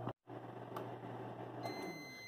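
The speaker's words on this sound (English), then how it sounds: "Now we're going to put it in the microwave." A microwave oven heating a bowl of oatmeal runs with a steady, low mechanical hum after a brief cut at the start. Faint clicks and a soft tone appear over the drone.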